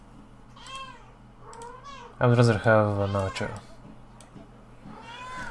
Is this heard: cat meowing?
yes